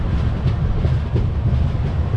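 The Mandovi Express on the Konkan Railway rolls into a small station in monsoon weather, a loud, steady rumble of wheels and carriages filling the whole moment, with no speech.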